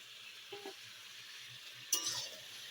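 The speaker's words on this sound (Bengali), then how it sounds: "এবার সাতলাতে থাকবো," Potatoes sautéing in a chicken-trimmings curry with green chillies in a pan on a gas stove: a soft, steady sizzle with a faint stir early on and one brief clink of a utensil against the pan.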